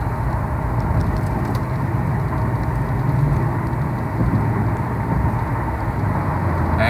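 A 2011 Ford Crown Victoria with a 4R70W automatic accelerates steadily, its engine drone loud and close inside the cabin as the transmission moves through an upshift, with no one talking.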